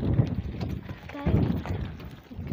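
A buffalo cart passes along a village lane, its hooves clip-clopping in an uneven rhythm close by, with people talking over it.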